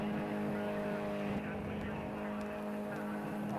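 A Ginetta G40 race car engine from the racing video game Project CARS 2, at Monza Short, drones steadily as a continuous, fairly faint buzzing tone, with a race commentator talking over it.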